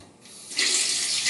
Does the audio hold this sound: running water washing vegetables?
yes